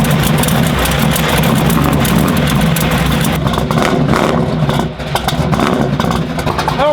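Car engine turning over for its first start in four years, running rough, loud and close inside a cabin with an unwelded floor and the exhaust right nearby; a steady heavy rumble with uneven pulses throughout.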